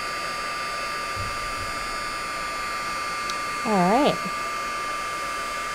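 A heat tool runs steadily to melt embossing powder on a card, giving a constant whirring hum with a thin whine, while a person briefly speaks over it near the middle.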